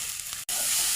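Grated coconut frying with a steady sizzle in a pan for chicken thoran, stirred, continuous and close, with a brief cut to silence midway.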